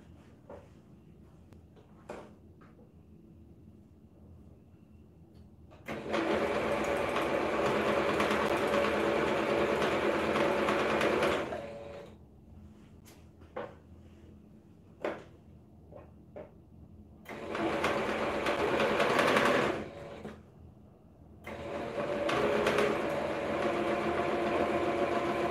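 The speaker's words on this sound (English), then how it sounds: "when I start sewing fast, it starts to make noise" A sewing machine runs fast in several bursts of steady whirring, stopping between runs with a few clicks in the quiet gaps.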